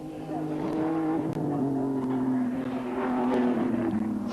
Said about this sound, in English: Coming down towards Castrol Curve, Richards with it all wound up, trying to put some heat into those tyres.